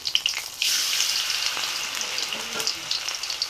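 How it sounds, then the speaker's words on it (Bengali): Malabar spinach (pui shak) fritters frying in hot oil, with a steady crackling sizzle that swells loudly after a brief quieter start and keeps popping up close with no talk. "পুঁই শাকের বড়া ভাজতেছে দিদি"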